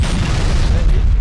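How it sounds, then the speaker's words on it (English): A grenade goes off in a 1v1 online shooter match, giving one loud, low rumbling boom that fills about a second without a break. "The only reason you got me was because of that stupid grenade."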